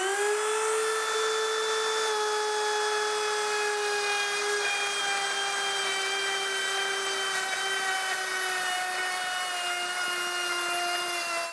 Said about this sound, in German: können wir einfach die Fräse starten und sie einmal absenken